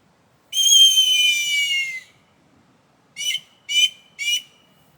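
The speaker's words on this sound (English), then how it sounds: "I could use this as an emergency whistle." A shrill whistle blown hard in one long blast, then three short sharp bursts after a pause, loud and close.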